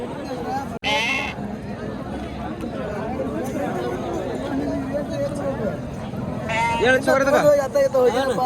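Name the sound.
sheep and lambs bleating at Mudhol sheep market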